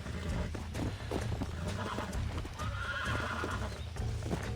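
A horse whinnies while hooves clip-clop steadily in a busy, layered outdoor soundscape with continuous background noise, in the video game Red Dead Redemption.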